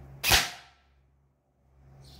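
A single sharp shot from a Rossi Neptune 10 Plus airsoft gun, a crisp close snap that decays quickly into near silence, followed by a faint hiss.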